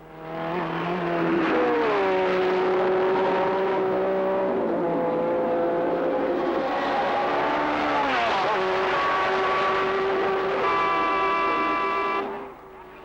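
Several 1967 German Grand Prix racing cars howl past one after another, loud rising and falling engine notes with gear-change steps and Doppler sweeps, running continuously for about twelve seconds before cutting off.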